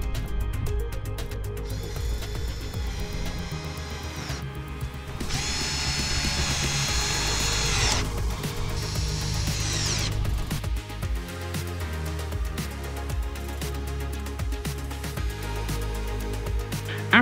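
A power tool driving 7mm screws into a Chevrolet C8 Corvette undertray panel, with close buzzing whirs in several bursts of a few seconds each over ongoing mechanical clicking and background noise.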